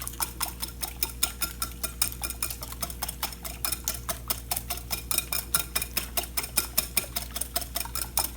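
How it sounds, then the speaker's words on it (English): A whisk beats eggs for a frittata in a bowl, producing a fast, steady rhythm of light clicking taps against the sides, close and even throughout with no talking. "I'm using a whisk to beat my eggs."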